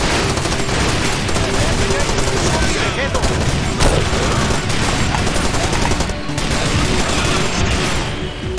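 Heavy gunfire in the video game Far Cry 2, continuous loud bursts of automatic weapons and rapid shots layered into a dense barrage throughout, with a voice talking over it.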